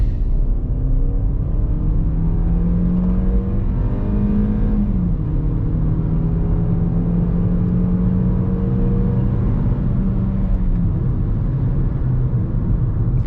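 Hyundai i30 hatchback accelerating hard under full throttle, a steady engine drone rising in pitch as revs climb, dipping briefly at a gear change near five seconds and again near eleven, continuous and close from inside the cabin.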